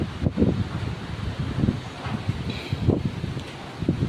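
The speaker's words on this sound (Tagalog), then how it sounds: "Wala na sana malakas na ulan. Itong hangin lang." Gusty wind buffets the microphone in low, uneven rumbles, rising and easing over a few seconds with a soft rustle underneath.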